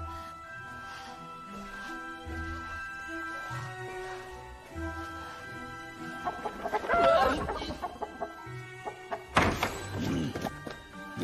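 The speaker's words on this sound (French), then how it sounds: "Le poulet, il fait aussi partie de ton plan?" A chicken in the animated film Ballerina clucks briefly amid a busy soundtrack of music and thumps, its calls mixed into the scene rather than standing alone.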